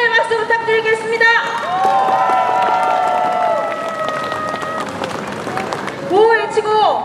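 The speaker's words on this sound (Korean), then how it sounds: "여러분 큰 응원의 박수 부탁드리겠습니다" Crowd applause and cheering from a political street rally on a Daejeon shopping street, sustained under a loud amplified voice that carries over the clapping throughout.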